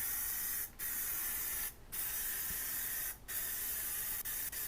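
Plastidip rubber coating sprayed from an aerosol can onto a helmet, three long continuous hissing bursts separated by brief pauses, close and steady.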